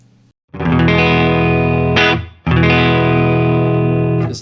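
Electric guitar run through a Guitar Rig 6 Pro effect chain set for a signature rock guitar tone with a treble booster, ringing loud and sustained, a brief break, then a second bright, chorused, distorted strum held to the end.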